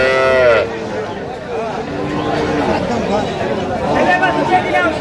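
Cattle at a village cow market, with several deep moos rising over the steady chatter of a crowd and voices talking close by.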